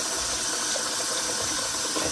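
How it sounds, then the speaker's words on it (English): Kitchen sink tap runs steadily while hands are washed, a continuous close hiss of flowing water with no breaks. "And wash my hands again."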